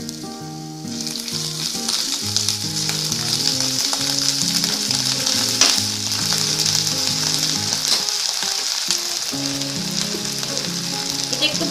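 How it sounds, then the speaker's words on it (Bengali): Ginger paste and spices fry in oil in a pan over a raised gas flame for a Bengali sweet chana dal, giving a loud, continuous sizzle with occasional stirring scrapes. "ভাজা ভাজা করবো মশলাটা"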